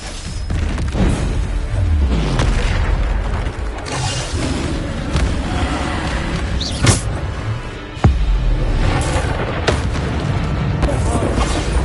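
Bombarda explosion spell in Hogwarts Legacy, several deep booms and thuds with a sharp blast near the end, under a voice talking over the combat.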